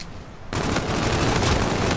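Rapid gunfire from Call of Duty: Infinite Warfare multiplayer bursts in after a brief quiet moment, a loud continuous automatic stream of shots with booming low end, close and sustained.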